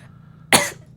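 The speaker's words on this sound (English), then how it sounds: "I'm hiccuping and coughing at the same time." A single short cough with a throat-clearing edge, from a person during a Star Wars family podcast, bursting out loud and alone for about a quarter second amid quiet.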